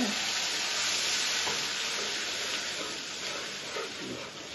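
Masala spices sizzling in a hot pan with a splash of water while being fried down for a big river fish (katla) curry: a steady, dense close-up hiss with faint stirring clicks, no talking.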